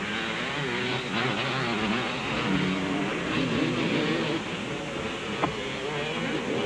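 Suzuki and Kawasaki motocross motorcycles race in a pro class event, their engines a loud continuous drone whose pitch rises and falls as the bikes rev, with no clear gaps.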